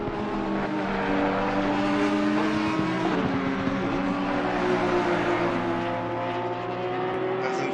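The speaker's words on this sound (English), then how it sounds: "That sounds like a hurt Porsche, that's for sure." A damaged Porsche race car engine at Zandvoort drones with a strained, uneven tone, held steady and fairly close, with no strong revving, lasting the whole stretch.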